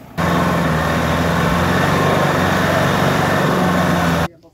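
Tractor engine running steadily while towing a stuck vehicle out, a loud continuous droning rumble with a low hum that starts abruptly and cuts off after about four seconds, with no voices.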